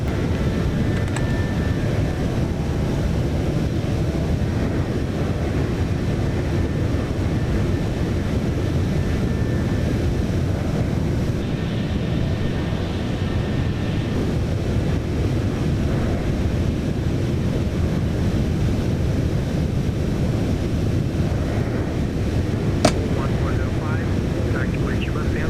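Steady broadband roar of an airliner's engines in flight, from the Microsoft Flight Simulator 2024 game on a GOL route from Sao Paulo to Porto Alegre, a continuous even drone with faint tonal whines and a brief click near the end.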